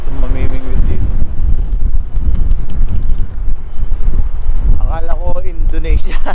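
Strong sea wind buffets the microphone on the shore where people are fishing, a loud continuous roar with voices breaking through near the end.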